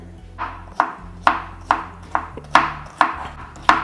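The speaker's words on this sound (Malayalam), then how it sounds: "കൂഞ്ഞിലില്ലാതെ നമുക്ക് ഇത് ജസ്റ്റ് ഒന്ന് കൊത്തി അരിഞ്ഞെടുക്കട്ടോ" A knife chops pineapple on a cutting board in sharp, close thuds, about eight evenly spaced strikes with short ringing decays, alone without speech.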